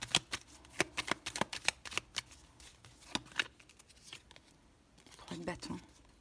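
Tarot cards riffled and snapped down in quick, close bursts of sharp clicks, easing off before a voice speaks briefly near the end.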